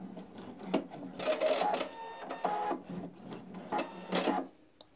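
A domestic sewing machine, used for beginner patchwork on a reading-tablet case, stitches in short mechanical bursts as it ties off the thread, with several quick runs separated by brief pauses.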